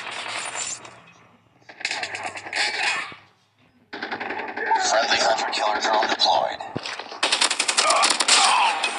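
Bursts of rapid automatic gunfire from Call of Duty, coming in several long volleys with brief gaps between them.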